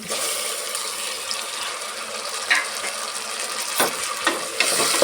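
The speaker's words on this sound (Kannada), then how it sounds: "ಟೊಮೆಟೋನ ಒಂದು ನಿಮಿಷ ಚೆನ್ನಾಗಿ ಸಾಫ್ಟ್ ಆಗೋ ತನಕ ಫ್ರೈ ಮಾಡ್ಕೊಳ್ಳೋಣ" Chopped tomatoes frying in a pan while cooking vegetable pulao, a steady close sizzle with occasional scraping and stirring clicks from a utensil.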